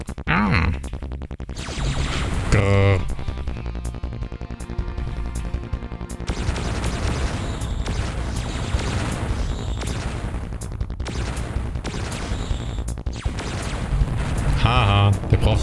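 Weapon fire in the sci-fi shooter game Descent booms and blasts repeatedly over a loud, continuous droning mix, with sharp impacts near the start and end and talking over it.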